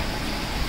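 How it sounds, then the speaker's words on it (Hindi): Heavy rain falls in strong wind with hailstones during a severe storm in Punjab, a dense, steady hiss of downpour with no distinct strikes, moderately loud and continuous for under a second. "बहुत ही ज़्यादा तेज़ है हवा के नाल और बारिश काफ़ी ज़्यादा हो रही है।"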